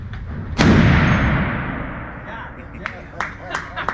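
A .50 BMG rifle fires once at an indoor shooting range with a sharp, loud blast and a long reverberant decay. People talk afterward and a few short clicks and clatters follow.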